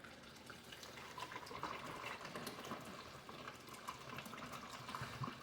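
Bottled water pours steadily into a container for mixing powdered milk, a continuous soft splashing trickle heard close up and alone.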